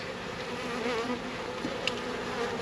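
A steady swarm hum of honeybees fills the air around a hive during installation of a live package, dense and continuous with brief closer buzzes, no talking.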